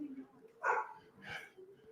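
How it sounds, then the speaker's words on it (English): A husky gives two short barks about half a second apart, close by and fairly loud, with faint voices in the background. "Wow, she actually barked. I've never heard her bark."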